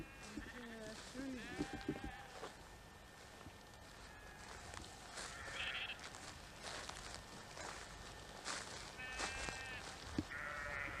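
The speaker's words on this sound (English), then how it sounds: "The sheep are running away" Sheep bleat several times at moderate distance over soft rustling and footsteps in an open field.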